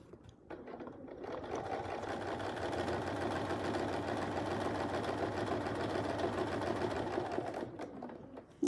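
A sewing machine stitches a Westalee Curly Q quilt design, a fast even mechanical whir that starts, runs steadily for several seconds, then stops, close and alone.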